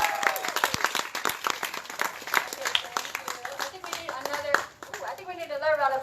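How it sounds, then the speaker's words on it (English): A school event audience applauds after a student's speech: continuous crowd clapping runs throughout, with a speaker's voice talking over it. "I think we need another round of applause for that one."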